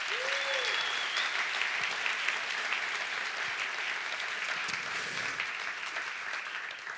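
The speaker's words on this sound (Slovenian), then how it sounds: "Dajmo še en velik aplavz za vse." Applause from the audience for the finalists at a business talent awards event fills the room as a continuous, even wash of many hands clapping, heard from some distance at moderate level, with no talking.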